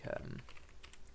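Values being typed on a computer keyboard, a quick run of light key clicks that starts with a faint voice underneath, quiet and close.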